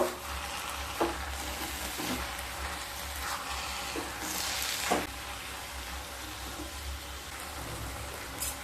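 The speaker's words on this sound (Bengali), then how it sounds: "দিয়ে শাকের সাথে খুব ভালোভাবে মিশিয়ে নেব" Malabar spinach greens being stirred with mustard paste in a pan, a steady sizzle broken by several scraping stir strokes, close and fairly loud, with nobody speaking.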